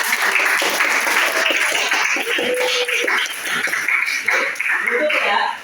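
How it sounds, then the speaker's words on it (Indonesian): A group in an academic supervision coaching session claps hands together in a brisk burst, the clapping mixed with talking and light laughter close by. "Oke, kita tepuk"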